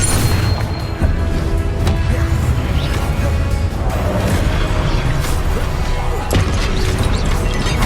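Fiery Confringo spell explosions in the Hogwarts Legacy video game, loud dense booms and crashes filling a continuous roar of combat effects with sharp impact hits scattered throughout.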